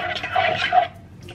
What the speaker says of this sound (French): je vais donc rajouter mon bouillon